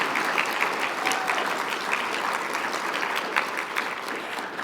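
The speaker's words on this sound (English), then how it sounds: "Please give yourselves a round of applause." An audience at a closing session and community meeting for an association's golden anniversary gives dense, sustained applause that stays steady throughout, with no talking over it.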